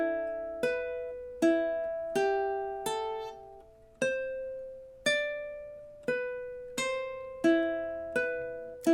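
A solo ukulele plucks the Exorcist theme slowly. Clear separate notes and chords ring out one by one with gaps between them, each decaying after it is struck, in a quiet setting.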